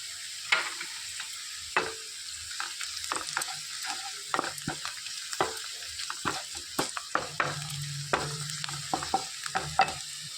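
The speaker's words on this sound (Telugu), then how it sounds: "మంచిగా ఉల్లిపాయలు అనేవి రంగు మారే వరకు వేయించుకోవాలండి" Onions with curry leaves and turmeric fry in a pan under a constant hiss of oil, while a spoon scrapes and taps in frequent short strokes, near and clear with no talk.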